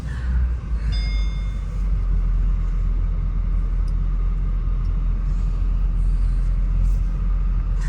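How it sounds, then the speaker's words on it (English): Steady low rumble of car traffic passing near a 2009 Mercedes-Benz SL550 in Dayton, Ohio, loud and continuous with faint higher whines drifting in and out, no voices. "Cars coming and going."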